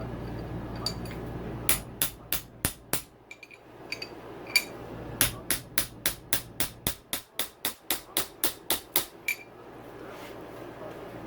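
Sharp metallic clicks ring out as a dirt bike's steering stem nut is tightened, first in scattered irregular ticks, then in a quick, evenly spaced run of about fifteen close clicks, like a ratchet wrench.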